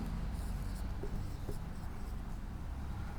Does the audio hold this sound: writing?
yes